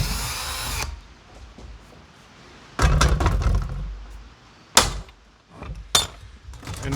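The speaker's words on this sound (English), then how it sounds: "And drill out the hole in your pan shank." A power drill with a 3/16 bit bores out the pan shank hole of a coyote trap in short whirring bursts, separated by pauses and a few metallic knocks.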